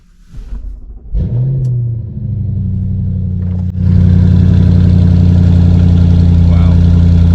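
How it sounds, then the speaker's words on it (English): A tuned Audi RS6 with a custom exhaust fires up from cold: a starter crank, a sharp catch and a loud rising roar that settles into a deep, booming, steady idle, very close and dominant. "I told you this car was tuned and it's got a custom exhaust."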